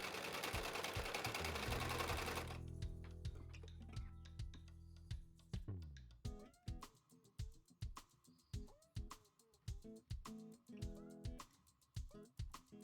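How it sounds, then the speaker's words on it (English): A sewing machine stitches fabric scrap pieces held right sides together for a summer top, running in quick mechanical bursts of rhythmic needle clatter with short pauses between, close and clear after a louder noisy opening. "With the right sides together still, we're going to sew one of the sides all the way together."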